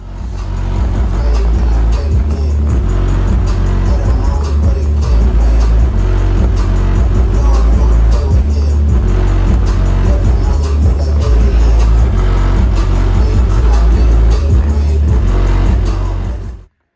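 Heavy, booming bass thumps loudly and continuously from a 12-inch Down Fire car subwoofer, filling the space for the whole stretch.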